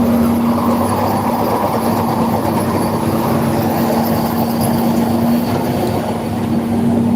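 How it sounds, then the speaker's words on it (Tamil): A Chennai AC electric local train rumbles past steadily and close near Trisulam, a continuous dense roar with a low hum running through it, with no voices. "இது வந்து சென்னை ஏசி லோக்கல் ட்ரெயின்."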